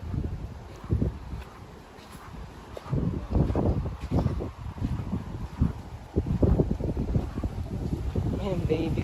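Wind buffets a beach campsite in gusts, with steady low rumble and rustle throughout, while people talk nearby.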